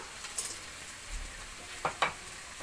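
Vegetable chop filling of potatoes and fried peanuts is stirred in a pan, with a soft continuous sizzle and a few sharp scrapes and taps of a spatula, close and fairly quiet.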